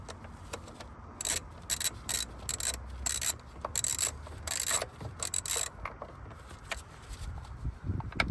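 A fitting on the water outlet pipe of a BMW 116d is unscrewed by hand, giving close, irregular bursts of ratcheting clicks and metallic ticks over a low background rumble, with no talking.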